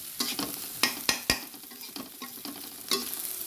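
Dried fish sizzles steadily in a pan, with several sharp clinks and scrapes of a utensil stirring through it.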